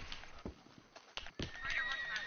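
A horse whinnies near the end of the clip in Red Dead Redemption 2, with clip-clop hoofbeats and game sounds before it, fairly faint.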